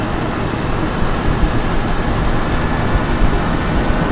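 Toyota Kijang engine running loudly nearby during distributor adjustment, a dense steady rumble and roar with slight surges in revs and no voices.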